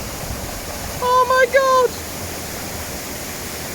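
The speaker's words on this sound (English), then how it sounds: "Welcome to Blair Beach Waterfall." Steady broadband rush of a waterfall at Blair Beach in Loch Ard Forest, Scotland, filling the whole clip at a constant level while a voice briefly exclaims over it midway.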